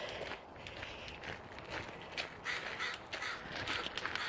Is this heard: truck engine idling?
no